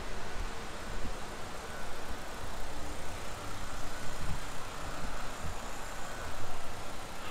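A car engine idles while its air conditioning is being recharged. The steady, fairly loud rumble and hiss hold even throughout, with no talking.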